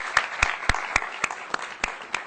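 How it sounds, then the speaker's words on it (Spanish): A short burst of applause after a presentation, with distinct, sharp claps in a steady rhythm from a small group, moderately loud and close. "Un aplauso para Doni y para el pueblo de Nicaragua."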